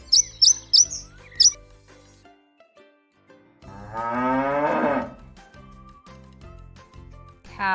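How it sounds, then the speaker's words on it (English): A single cow moos once in a long, loud, drawn-out call, preceded by brief chirps and followed by quiet music. "I am a cow."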